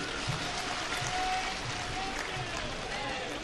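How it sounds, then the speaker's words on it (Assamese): Broad, steady applause from a large crowd at an outdoor political felicitation ceremony for panchayat representatives, a dense continuous roar of clapping filling the whole stretch with no breaks. "জোৰদাৰ তালি বজাব"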